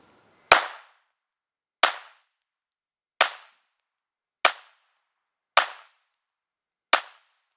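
Six sharp pistol shots from a Glock 43 at 5 yards crack out one at a time at roughly even intervals, each loud and close with a quick decaying tail and silence between.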